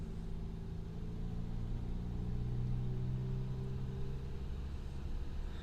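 A 2016 Renault Kadjar 1.5 dCi diesel with flat performance pulling under throttle, a steady low engine drone and rumble heard from inside the car, continuous and fairly loud with no clear rise in revs.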